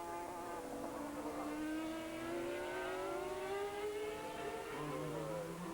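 Sportscar World Championship race car in 2000 climbing back to full speed after a gear selection problem, engine tone rising through the gears in a long accelerating whine, faint and distant broadcast sound.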